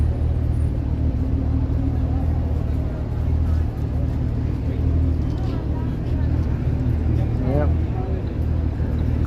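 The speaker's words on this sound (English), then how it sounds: "Classic car." A classic car passes along a Toronto street on a Wednesday night, its low engine rumble carrying over steady city traffic noise and a voice speaking.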